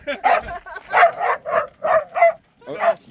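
A dog at a desert camp barks in a quick series of about seven loud, close woofs and yips with short gaps between them.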